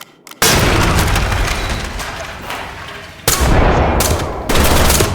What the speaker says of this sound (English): Deploying explosive.